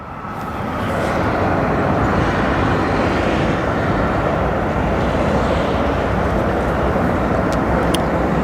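A British Airways airliner at O'Hare airport gives a loud, steady jet roar that swells in over the first second and then holds level and broadband to the end, with no voices over it.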